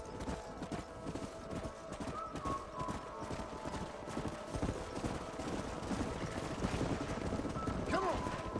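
Horses clip-clop steadily through a Western frontier town in Red Dead Redemption, with a brief whinny near the end, while game voices talk over the hoofbeats.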